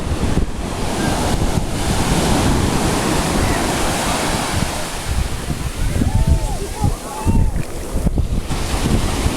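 Ocean surf rolling onto a beach shore, a loud continuous wash of breaking waves with heavy wind buffeting the microphone throughout and no clear talk.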